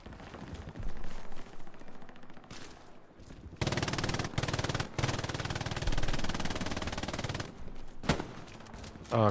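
Machine gun fire from a video game crackles in long, dense bursts and scattered shots, loud and close, with brief pauses between volleys.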